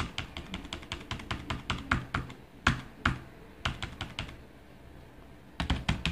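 Someone types on a computer keyboard in quick, uneven bursts of close clicks and taps, pausing briefly before the fast keystrokes pick up again.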